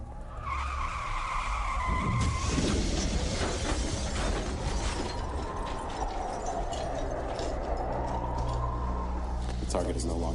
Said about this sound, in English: Accelerating car to a high speed.